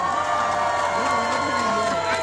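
A crowd at an outdoor autumn flower festival song contest in Hwasun cheers and shouts, a continuous roar of voices with a sustained pitched tone running over it, loud and steady.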